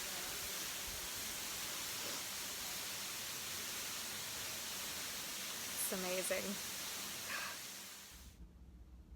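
Steady broadband rush of a waterfall heard from behind the falling water, continuous and loud throughout, with a brief spoken remark partway through before the sound cuts off near the end.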